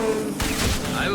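Rifle fire in Mass Effect 2, a quick burst of gunshots lasting under a second with a voice talking just before.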